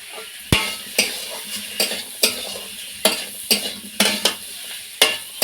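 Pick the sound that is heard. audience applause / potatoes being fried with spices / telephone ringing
potatoes being fried with spices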